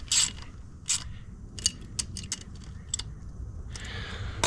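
Torque wrench and tools working on bolts of a Yamaha WR450 motorcycle during maintenance: a series of sharp metallic clicks and ratcheting ticks, spaced irregularly and close by, with a soft mechanical rustle building toward the end.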